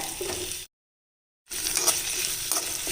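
Tomatoes sizzle steadily in a hot pan, cut by a brief gap of silence, then the frying resumes with light stirring scrapes.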